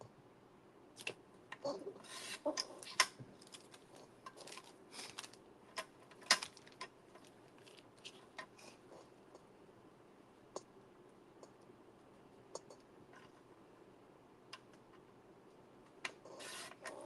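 A mini paper trimmer from Hobby Lobby slices through paper in a quiet indoor craft setting, giving soft scattered rasping slides and crisp clicks of the blade at close range, with no talking.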